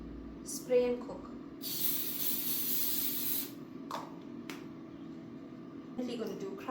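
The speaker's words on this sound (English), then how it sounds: "Some spray and cook." Spray-and-cook cooking oil hisses from a can into a frying pan on a stove in one loud, steady burst lasting about two seconds, framed by brief handling clatter.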